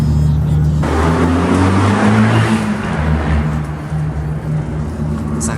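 An Abarth sports car engine rumbles loudly and steadily, its low drone and revs echoing inside a tunnel.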